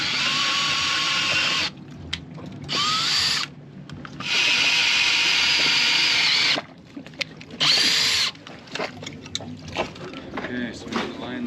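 A power drill bores holes in several close, loud bursts of steady whirring, each starting and stopping abruptly, with people talking in the gaps between runs.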